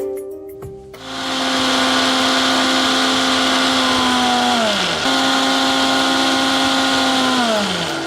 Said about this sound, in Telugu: ఇప్పుడు మనం దీన్ని మిక్సీ పట్టేసుకుందాం.